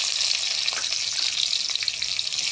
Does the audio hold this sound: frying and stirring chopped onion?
yes